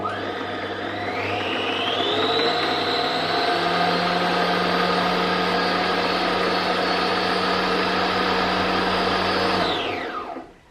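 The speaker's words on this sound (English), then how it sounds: "I'm just going to hold my thread to begin with until the thread starts wrapping around the bobbin" A Bernina sewing machine winds thread onto its bobbin with a loud, steady motor whine that rises in pitch as it spins up, holds evenly for several seconds, then drops away as it stops.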